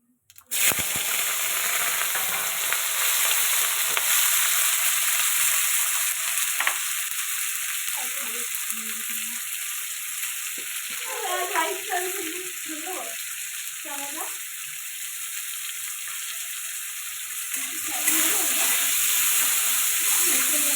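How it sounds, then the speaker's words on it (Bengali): Cumin seeds, onion, potato and chilli sizzle steadily in hot oil in a home kitchen pan, a constant crackling hiss with occasional stirring clatter and brief bursts of louder spitting midway. "কটা গোটা জিরে দিয়ে দিলাম, পেঁয়াজ আলু লঙ্কাটা দিয়ে দেবো।"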